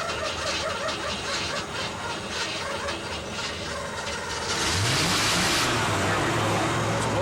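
A 1982 car engine cranking by a push button under the dash, with the starter grinding steadily in slow cycles, then a faint rising tone as it begins to catch, recorded close and loud.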